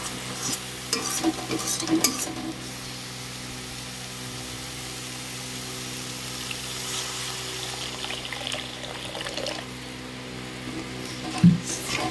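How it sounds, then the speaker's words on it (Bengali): Spice paste frying in oil in a pan while cooking patol sundari, a pointed gourd curry, with a steady sizzle and occasional stirring scrapes throughout, plus a louder clatter near the end. "দেখো মশলাটা খুব সুন্দর করে কষিয়ে নিয়েছি, মশলা দিয়ে তেল ছাড়তে শুরু করেছে।"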